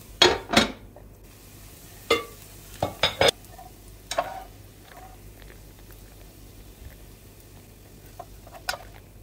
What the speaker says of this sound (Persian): درشو میذاریم هم پخته بشه هم تفت داده بشه